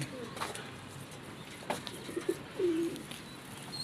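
Teddy pigeons coo softly a few times over a quiet background hum, with brief throaty calls near the end.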